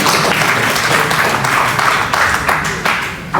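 Audience applause at a national trading day event, dense and steady clapping from a crowd that stays loud throughout, with scattered sharper claps and a slight fade near the end.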